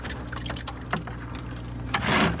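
Water drains from a dishwasher hose into a bucket, a steady close trickle with small splashes that swell louder near the end.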